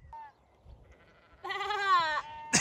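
A sheep gives a loud, wavering bleat close by after a brief faint call, with quiet outdoor background on a mountain trail near Wanaka, New Zealand.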